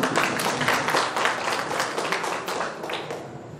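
Audience applause at a Hindi-Urdu mushaira poetry recital in Mirzapur: a steady, dense wash of many hands clapping throughout, easing slightly toward the end.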